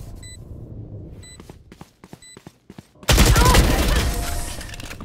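A Valorant swarm grenade goes off in a sudden loud burst of crackling, popping blasts, after a few quiet clicks and beeps.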